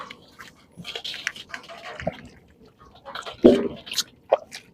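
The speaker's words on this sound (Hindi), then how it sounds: "अब हम इसको पानी से वॉश कर लेंगे अच्छी तरह से।" Goat trotters for paya being washed with water: irregular splashes, squishy handling and drips, close up, with brief louder sloshes between quieter pauses.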